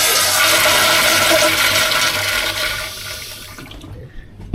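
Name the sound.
toilet flushing at South Pole Station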